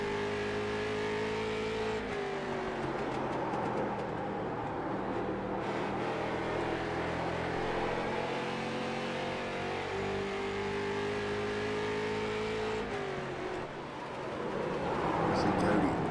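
Street stock race cars at Thompson run a 100-lap race through lap traffic, engines droning and shifting pitch as cars pass, with a commentator talking over the steady roar throughout.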